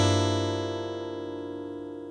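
A single electric guitar chord with its bass note, strummed once from a song lesson, ringing out clearly and decaying slowly on its own with no voices.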